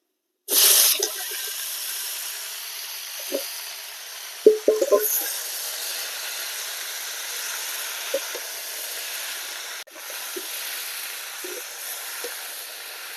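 Chopped tomatoes dropped into hot oil with black mustard seeds and garlic for a tomato chutney: a sharp burst as they hit the pan, then a long, even hiss with a few clinks and spatters.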